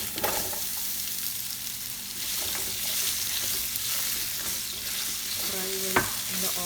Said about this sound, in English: Fry well in the oil.